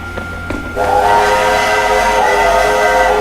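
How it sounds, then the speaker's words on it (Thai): A train in the World War II shooter game Sniper Elite V2 rumbles steadily and loudly, with a sustained whistle-like tone rising in after a few faint clanks, heard alone without talk. "นี่คือรถไฟที่สำหรับฮิตเลอร์ขึ้นไว้หนี"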